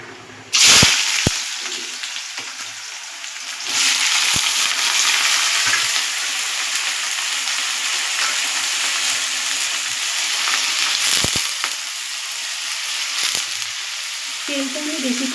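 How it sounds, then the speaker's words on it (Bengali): Potatoes hit hot oil seasoned with mustard seeds and chilli, bursting into a loud, continuous sizzle after a brief clatter, with occasional sharp utensil knocks against the pan; the frying hiss stays steady and close throughout. "এবার এটাকে আমি আলুগুলো এর মধ্যে ভেজে নেব"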